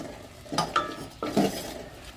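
Tomatoes and ginger-chilli-garlic paste stirred in a pan for moong dal and ridge gourd sabji: two short bursts of spoon-on-pan scraping and clinking, fairly close, with no voices.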